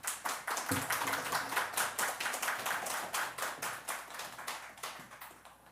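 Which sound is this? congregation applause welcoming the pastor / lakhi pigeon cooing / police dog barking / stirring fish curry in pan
congregation applause welcoming the pastor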